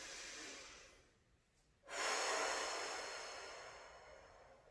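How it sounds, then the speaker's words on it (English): Slow yoga breathing up close: a long airy exhale that fades, a short pause, then a strong inhale through the nose that swells and slowly tapers off, with no talking. "Again, inhale, exhale, inhale, exhale."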